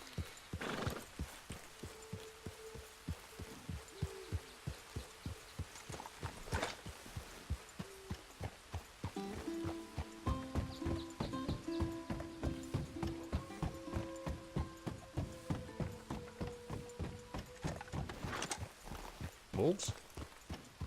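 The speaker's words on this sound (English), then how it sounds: "Get back on the horse, Arthur." Hooves of a horse being ridden in Red Dead Redemption 2, a steady rhythmic clip-clop through the whole stretch with a neigh or two and game music in the background, fairly close.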